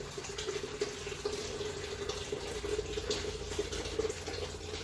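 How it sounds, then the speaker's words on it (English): Hot water running steadily from a tap or kettle into a home-brew kettle, a continuous close splashing pour with no talk. "Get a couple more litres of hot water."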